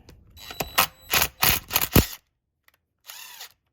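An impact wrench loosens the muffler screws on a Stihl 046/MS460 chainsaw. It fires in several loud, close bursts of rapid rattling hammering, goes quiet for a moment, then gives one shorter burst.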